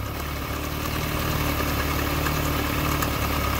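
A Volkswagen Golf 2 GTI 16s engine idles close by, a steady, loud mechanical rumble with a slightly wavering idle and no speech over it.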